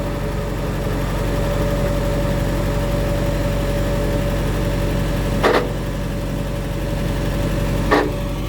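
A farm machine's engine runs steadily near the listener with a constant low drone and a hum that holds on one pitch, plus two brief knocks or clanks late on.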